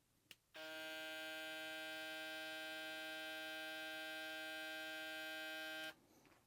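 A BaByliss Dual Coil hair clipper with double vector motors runs steadily at about 9,500 RPM, giving a loud, close, even electric buzz that starts abruptly after a click, holds for about five seconds, then cuts off.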